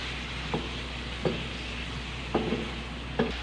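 Chicken jalfrezi with tomato ketchup is stirred in a pan, giving a steady low sizzle broken by four soft scraping strokes of the spoon at regular intervals.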